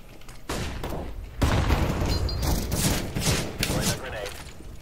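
A flashbang thrown in a team-versus-team video game, heard within a dense burst of gunfire, booms and thuds, loud and close, with a sharp blast around the midpoint amid overlapping game voices.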